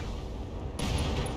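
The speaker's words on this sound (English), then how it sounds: "LRM ammo explosion" An LRM ammo explosion in BattleTech bursts partway through as a sudden muffled boom over a low rumbling game background, with no voices.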